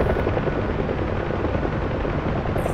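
Huey UH-1H helicopter in the DCS flight simulator, its rotor and turbine making a loud, steady broadband roar that continues unbroken and fills the whole stretch without any talk.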